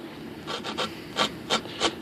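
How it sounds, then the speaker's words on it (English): Rhythmic scratchy rubbing strokes, about six of them, close and moderately loud, a sanding block scuffing texture into the plastic surface of an RC glider model back and forth. "grab a sanding block like this, okay? You can get in there and just"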